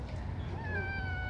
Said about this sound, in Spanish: Mira los gatitos.